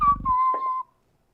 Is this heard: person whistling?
yes